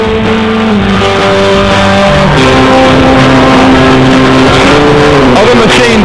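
Enduro motorcycle engines, Yamaha among them, rev loudly at the Le Touquet beach race in 2003, a dense constant roar of many machines with rising and falling pitches as they crowd together, a narrator speaking over them.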